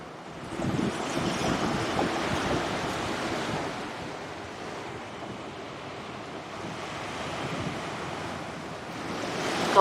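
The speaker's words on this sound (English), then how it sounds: "Beautiful beach." Ocean surf rolling onto a beach at Wassaw National Wildlife Refuge, a continuous wash of breaking waves with wind buffeting the microphone, steady and fairly loud throughout.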